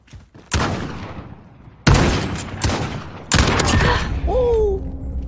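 Sniper rifle gunfire in a Modern Warfare 3v3 match: three sharp, loud shots spaced a second or two apart, each with a decaying echo tail, followed by a short whistling tone.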